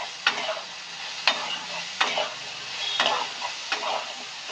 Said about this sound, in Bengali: দিয়ে আমরা এটাকে লাল লাল করে ভেজে নেব।